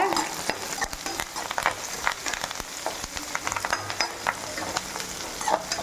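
Onions, green chilli and curry leaves sizzling and frying in hot oil in a pan for a raw banana coriander masala, a steady crackling hiss with occasional stirring scrapes, close and fairly loud, no talk.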